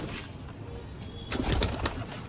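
Pigeons coo softly in a loft, a few low, throaty calls that rise briefly amid a quiet background with scattered fluttering and rustling.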